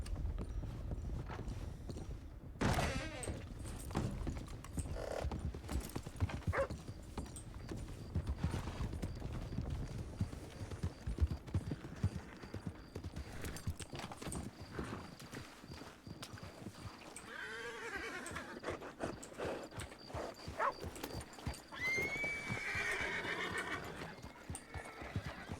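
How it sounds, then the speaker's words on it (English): Horses in Red Dead Redemption 2, played on the WildRP roleplay server, clip-clop past in a steady stream of hooves, with loud, close whinnies and snorts breaking through near the end. "Listen to all those horses."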